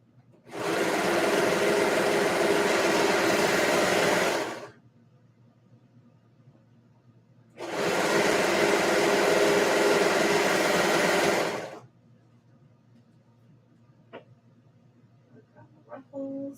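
A sewing machine stitches ruffles in two long steady whirring runs of about four seconds each, close and fairly loud, separated by a quiet pause, with faint small clicks afterward.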